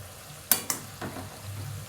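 Khari shankarpali dough pieces frying in hot oil give a steady, close sizzle, with two sharp clinks as a slotted spoon dips into the pan.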